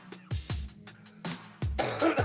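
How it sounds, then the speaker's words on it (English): A person coughs harshly after a hard hit of cannabis smoke. Several close, loud coughs and throat-clearing bursts come in an uneven series. "now I'm coughing."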